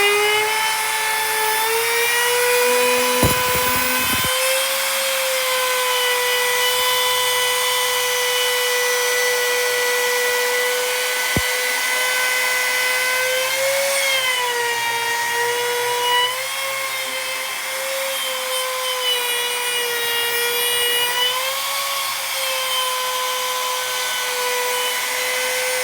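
A Bauer 6.5 amp variable speed compact router whines steadily while cutting a piece of scrap oak, a loud continuous high-pitched motor drone with slight pitch dips as the bit bites into the hardwood, heard close and alone.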